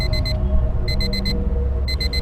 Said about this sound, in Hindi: तभी टाइमर बजने की आवाज़ आई।